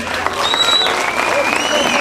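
Audience applause in a hall at a Turkish orta oyunu folk theatre performance: loud, dense, continuous clapping close by, with voices mixed into the crowd noise.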